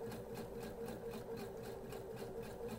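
A sewing machine stitches two pieces of cloth together in a quiet, close ASMR-style setting, with a steady, even mechanical hum and a rapid, regular pulsing that runs without a break. No one speaks.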